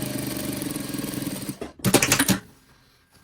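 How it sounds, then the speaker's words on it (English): A sewing machine stitches the front shoulder of a shirt to the inside yoke with a steady, close mechanical whir, pausing briefly before a short louder burst and then falling quiet. "So I'm only sewing the front shoulder to the inside yoke at the moment."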